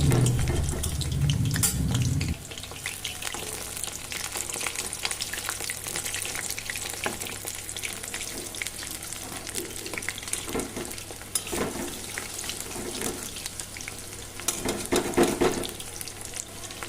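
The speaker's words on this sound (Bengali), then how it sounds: "এপিট ওপিট করে লাল লাল করে কিন্তু বড়াগুলো ভেজে নিতে হবে।" Jute leaf fritters deep frying in hot oil give a steady, close sizzle with occasional stirring scrapes, after a brief louder burst at the start. No voices.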